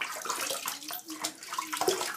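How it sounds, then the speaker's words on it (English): Water splashes and runs at a bathroom tap as hands splash it onto a face, a close, continuous patter of uneven splashes. "Now I'm going to splash my face."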